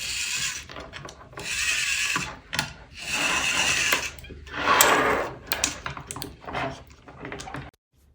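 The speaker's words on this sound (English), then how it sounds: "And now, with the rotation of the servo," A servo turns a robotic hand mechanism with a whirring, buzzing motor sound in several close bursts, mixed with small mechanical clicks, and then stops abruptly.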